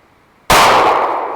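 A single sharp, loud pistol shot from a Glock fired outdoors in the woods, an abrupt close crack followed by a short decaying echo.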